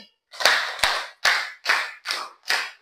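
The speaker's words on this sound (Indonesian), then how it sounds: "Tepuk 1, tepuk 1 2 kali, tepuk 1, tepuk 1 3 kali, tepuk 2 3 kali." A classroom group claps together in an ice-breaking game, six sharp unison bursts, closely and evenly spaced, with silence between them.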